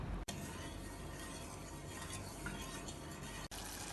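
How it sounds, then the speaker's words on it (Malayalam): Sugar and water are stirred in a pan to dissolve, giving a faint, steady scraping and swishing with no voices. "ഇതിലേക്ക് 1/2 കപ്പ് വെള്ളം ഒഴിച്ച് തീ കത്തിച്ച് ഇളക്കി അലിയിച്ചെടുക്കാം"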